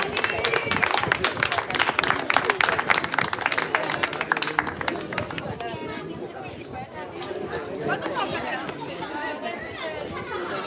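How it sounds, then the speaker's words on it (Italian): Spectators at a youth boxing sparring session applaud after a round, with dense clapping that thins out after about five seconds into lively crowd chatter and voices. "Un applauso a questi giovani pugili."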